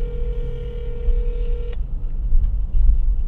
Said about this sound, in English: I'm gonna call Ayla and see what she has to say for herself